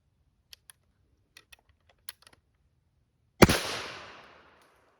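A single sharp shotgun blast from a squirrel hunt on public land cracks out loud and close, then trails off in a long fading echo. A few faint ticks and rustles come before it, and there is no talking.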